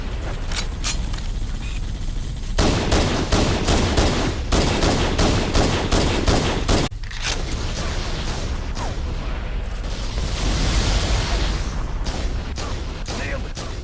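Covering gunfire in the video game Halo: sustained bursts of rapid automatic fire and heavy booms, loud and close, with short pauses between volleys and a brief lull midway.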